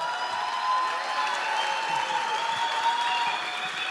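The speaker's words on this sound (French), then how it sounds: "Applaudissements pour Raphaël Rugère." Studio audience applauding steadily at an evening gala for a tribute to Raphaël Rugère, a dense even wash of many clapping hands with faint cheering, no voices over it.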